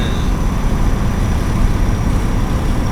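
Volvo F16 intercooler truck cruising, a dense, steady low engine rumble heard from inside the cab, loud and continuous without speech.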